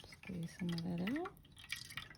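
A soaked Viva paper towel is squeezed, and water drips and trickles out in a short burst beneath a nearby voice.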